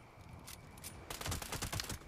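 Video game gunfire: a few scattered faint shots first, then a rapid burst of automatic fire, close and fairly loud.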